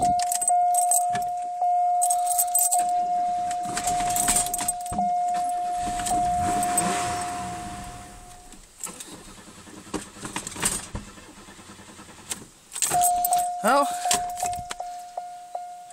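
A 1996 Buick Century with keys jangling in the ignition, a starter cranking and the engine catching, then settling toward a rough idle, with a steady whine, some brief talk, and more key rattling near the end.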